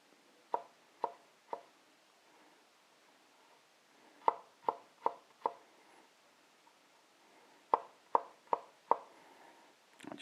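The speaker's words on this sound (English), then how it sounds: "Now for the cornichons, again, we're gonna chop them up relatively fine." A knife chops cornichons on a cutting board in short sharp knocks, three at first, then groups of four and five, close and distinct with quiet gaps between.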